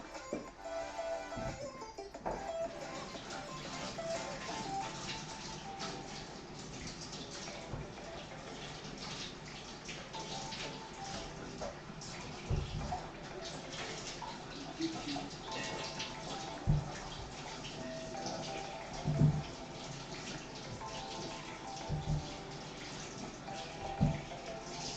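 Items rinsed by hand under a running kitchen tap, with a steady broadband water rush and occasional soft knocks and clatters from objects being handled at the sink, close and continuous throughout.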